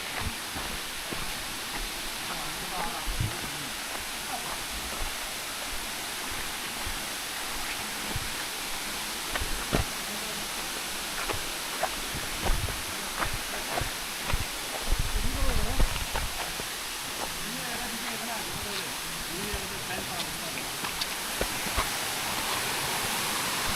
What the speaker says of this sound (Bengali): যুবতা খুমের পাশেই একটা সুন্দর ঝর্ণা